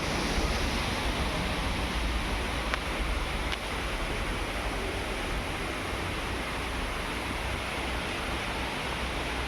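Waterfall beside Dhutpapeshwar temple at Rajapur, Ratnagiri, a dense, continuous roar of rushing water, loud and steady from start to finish with no talking.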